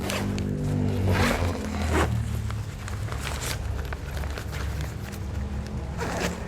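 Zipper on the divider of an Arei Outdoor Gear Cartensz 60 L ultralight hiking carrier backpack being pulled closed, several quick rasping zip strokes spaced across a few seconds, close and fairly loud over a low handling rumble.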